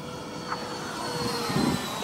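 A Freewing MiG-21 RC model jet on its first flight rolls for takeoff, its ducted-fan engine giving a steady, moderately faint whooshing whine outdoors that swells slightly toward the end.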